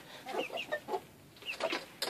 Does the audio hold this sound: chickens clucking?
yes